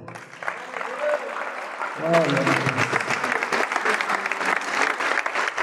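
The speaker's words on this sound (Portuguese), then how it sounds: "Merece um aplauso, não é?" A church congregation at an anniversary celebration breaks into loud, sustained applause after a short spoken line, with voices carrying over the clapping crowd.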